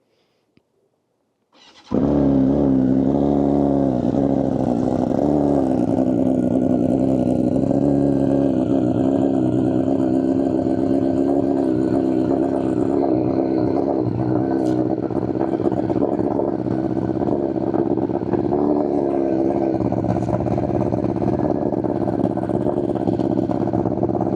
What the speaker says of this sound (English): We'll turn it on right now for you guys. Let you hear it.